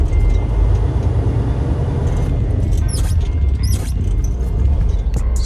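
A Freightliner Cascadia truck with a 10-speed manual transmission runs under a loud, constant engine rumble while gears are double-clutched, with brief clicks and squeaks of the shifter and clutch heard close inside the cab.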